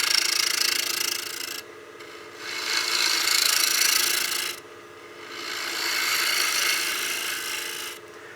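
A gouge trues up the surface of a spinning wooden utility box on a running lathe, making rasping cuts in three long bursts separated by brief quieter gaps, close and without speech.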